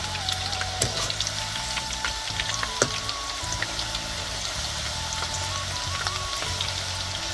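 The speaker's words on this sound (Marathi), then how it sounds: "तसंच दुसरा पण मस्तपैकी तळून घेते" Banana slices for crispy wafers fry steadily in hot oil, giving a continuous dense crackling sizzle with scattered sharper pops throughout, close and fairly loud with no talking.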